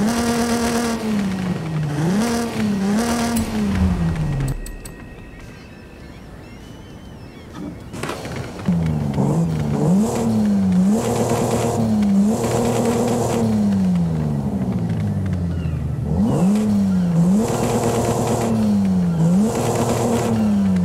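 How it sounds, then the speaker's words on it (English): A loud racing car engine from a Land Rover Defender in the video game Forza Horizon 5, fitted with a racing exhaust, revs repeatedly, rising and falling in pitch, with a brief quieter idle pause before aggressive revving resumes. "And this is what it sounds like with the racing exhaust."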